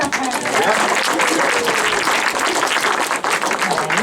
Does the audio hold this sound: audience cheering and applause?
yes